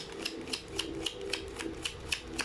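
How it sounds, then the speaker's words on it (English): A deck of tarot cards with silver-edged pages being shuffled by hand, making a steady run of soft, papery clicks and flutters at a quick, even pace, close and moderately loud with no talking. "let's actually shuffle the cards"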